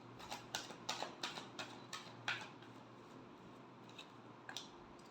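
Tarot cards shuffled by hand, heard as a close burst of soft snapping card flicks in the first half, then a few scattered light taps over a steady low hum.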